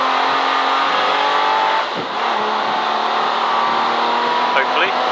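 A V12 race car engine howls around Silverstone from inside the car, a loud sustained tone that dips briefly when the car lifts off, then climbs again while someone talks over it.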